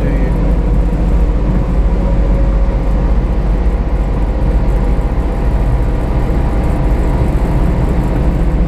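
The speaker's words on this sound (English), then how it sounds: "Feel the truck next to you." A truck rolls alongside a supercharged 1991 Subaru Sambar kei van at highway speed in the US. Heavy, steady low road and engine rumble with wind roar holds loud and unbroken throughout.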